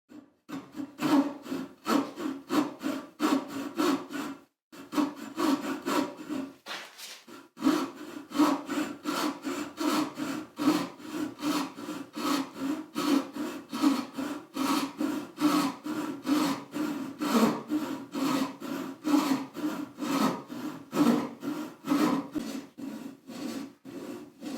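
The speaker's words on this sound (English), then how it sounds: "sawing into the wood without it bouncing around too much" A hand saw cuts into wood for a rustic mallet in steady, rhythmic back-and-forth strokes, close and loud, with a brief pause near the start and no talking.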